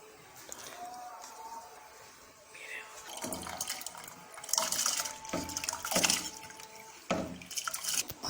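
Water is poured into a cooking pot, about a litre, for biryani, with soft trickling and splashing that grows louder in bursts toward the end, close by.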